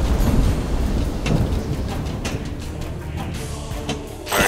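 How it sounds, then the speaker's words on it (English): Rumbling thunder and rain from a thunderstorm effect in the Son of Zeus table of the Pinball FX3 video game, a steady loud wash with several sharp cracks and a final burst near the end. "This will be a raging storm."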